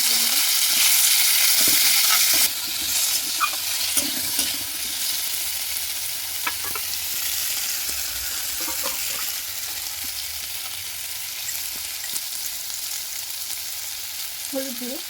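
Panch phoron, dried chilli, pumpkin and tomato frying in hot oil, starting with a loud bright hiss that settles into a steady sizzle with intermittent stirring knocks, close and without talk.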